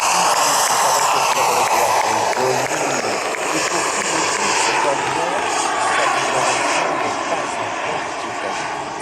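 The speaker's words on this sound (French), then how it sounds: "passage lent, très bas, tout en douceur, volet sorti, feu allumé" A model jet aircraft of more than 20 kg, flaps out and lights on, passes slowly and low, with a steady whining turbine roar that swells and fades slightly while someone commentates over it.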